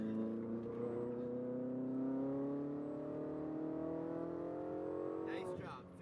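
Ferrari 488 GTB engine accelerating on a race track, a smooth rising roar heard from inside the car that climbs steadily in pitch for several seconds before easing off, with voices faintly audible beneath it.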